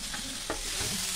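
Washed flattened rice (poha) tipped into a hot kadhai for Maharashtra chivda, with a steady close sizzle and a brief rustling scrape of the grains.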